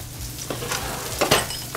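Crab cakes fry in a hot pan with a steady, close sizzle, broken by a couple of brief clinks near the end.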